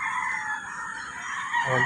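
A rooster crows in a long, drawn-out call, fairly close, followed by the start of chickens clucking.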